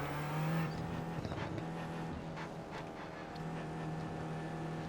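Race cars in iRacing at Long Beach rumble steadily through a production car challenge, a continuous engine drone with a held low tone rising and falling as the field rolls behind the departing pace car.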